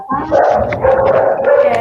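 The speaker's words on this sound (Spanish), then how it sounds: "mi perro está ladrando" A poodle barks and yips repeatedly at close range indoors, the calls running almost continuously and loud, with faint talk mixed in.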